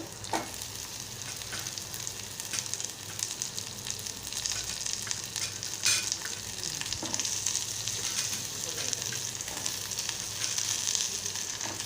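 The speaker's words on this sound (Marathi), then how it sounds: "आता लाल भोपळा घालत आहे आणि आपण व्यवस्थित असं परतून घेणार आहोत" Red pumpkin stir-frying in a pan with browned onion and chili for a Malvani-style bhaji, a steady close crackling sizzle broken by a few scraping stirs.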